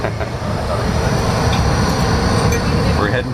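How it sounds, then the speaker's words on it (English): A wine train rolls along its rails toward the vineyards, heard from inside the carriage as a steady loud rumble and rattle with faint rhythmic clicks throughout. "So, the wine train is a little rocky."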